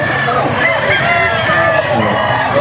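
Many chickens and roosters crow and cluck together in Bocaue, Bulacan, loud and close, with overlapping calls forming a continuous dense chorus.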